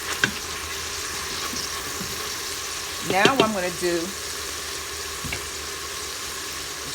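Oxtails sauté in an Instant Pot, giving a steady low sizzle throughout, with a person speaking briefly over it partway through.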